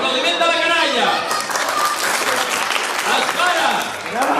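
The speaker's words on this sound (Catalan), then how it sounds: "Aplaudiment de la canalla!" Applause from children at a school farewell party for sixth-grade pupils, steady clapping with talk and sung or called voices over it throughout.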